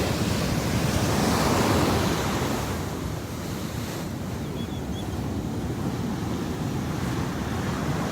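Surf rolling onto a beach where yellow foam washes in the sea, a steady broadband wash with a louder swell early on, mixed with wind buffeting the microphone, no voices.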